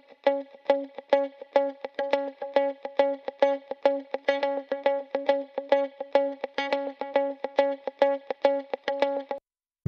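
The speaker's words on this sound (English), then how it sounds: "it has some reverb on it already, a spring, I would say." Electric guitar with spring reverb picks out a steady, rhythmic run of plucked notes, the reverb adding a metallic splash to each attack, played alone.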